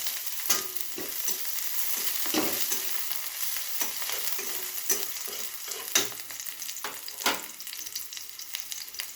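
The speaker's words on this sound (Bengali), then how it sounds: "রসুনটা দিলাম আর পেঁয়াজটাও দিয়ে দিলাম" Garlic and onion hit a pan of already fried carrot for chira poha, a steady close sizzle broken by repeated scraping stirs of a spatula, with no voices.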